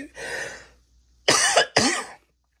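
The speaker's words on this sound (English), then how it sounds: "I'm about to cough" A breathy exhale is followed by two sharp, close coughs in quick succession, then silence.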